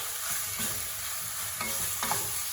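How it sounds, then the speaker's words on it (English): Sausage and ground beef sizzle in a pan while a wooden spoon scrapes and breaks up the meat, a constant frying hiss with soft stirring scrapes, no talking. "So just with a wooden spoon, just keep working it. Break it up. It will break down for you as it cooks."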